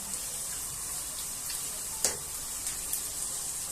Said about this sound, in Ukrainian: Цибульку постійно потрібно помішувати